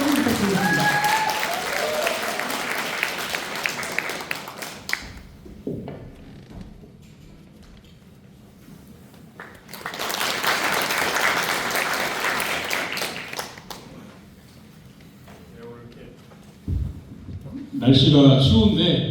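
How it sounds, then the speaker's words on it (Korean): Applause breaks out at a Democratic Party members' rally in Heungdeok-gu, Cheongju, as the local committee chair is welcomed on stage. Two loud bursts of crowd clapping are separated by quieter stretches, and speech sounds before and after. "큰 박수 부탁드리겠습니다"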